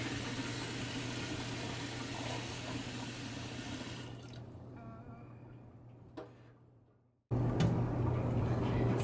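Water pours steadily into a pot of plant material for natural dyeing, a continuous splashing rush that fades and briefly cuts out before resuming loudly.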